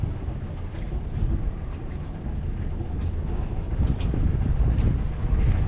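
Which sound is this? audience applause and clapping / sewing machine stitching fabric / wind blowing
wind blowing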